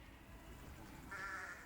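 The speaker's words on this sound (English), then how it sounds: "People want to see the sheep because somehow they belong to the Englischer Garten." A few sheep bleat faintly in the Hirschau meadows of Munich's Englischer Garten, one thin bleat rising near the end over a low outdoor rumble.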